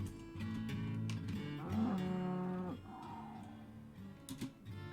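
A stray cow in Dwarf Fortress gives a single clear, drawn-out moo over soft game music, loud in the middle of the clip and then fading.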